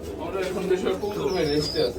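Pigeons in a farm loft coo in soft, rolling murmurs close by, continuing steadily with faint chirps mixed in.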